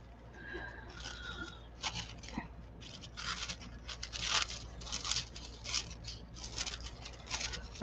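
Paper being trimmed with scissors for a black and white journal page, with a series of short, close snipping and crisp rustling bursts spaced irregularly, the last few coming in quicker succession.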